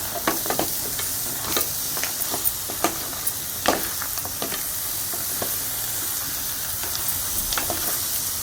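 A spoon stirs crab curry frying in a pan after garam masala goes in, scraping in sharp irregular strokes over a constant loud sizzle.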